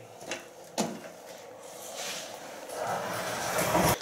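A door at a supposedly haunted spot is shut again, giving two quick soft knocks near the start, followed by a rising rustling, shuffling noise close by.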